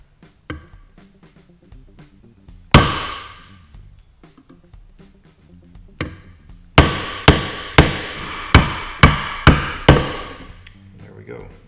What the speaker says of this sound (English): I'm going to try to take a punch and punch that rotor assembly out